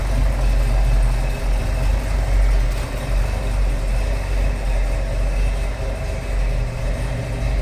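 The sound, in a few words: 1970 Ford Mustang Mach 1 428 Cobra Jet engine idling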